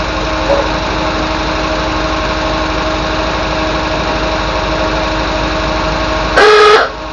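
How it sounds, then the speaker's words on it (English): An MGB classic car's small engine idles steadily, then a single short car horn honk sounds near the end, loud and close over the running motor. "do you want to hear the horn again?"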